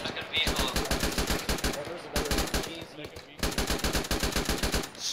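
Rapid automatic gunfire in the military game ArmA 3, close and loud, rattling in three sustained bursts separated by short pauses.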